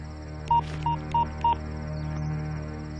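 A telephone being dialed in a Telugu action drama scene: four short, evenly spaced touch-tone beeps ring out clearly over a faint steady hum, then a quiet hum remains.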